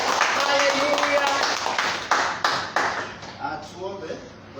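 A church congregation claps in praise, a run of sharp, fairly close claps that thin out and fade, with a voice speaking at the start.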